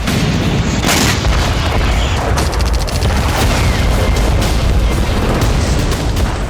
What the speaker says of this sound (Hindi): लगातार धमाके होते रहे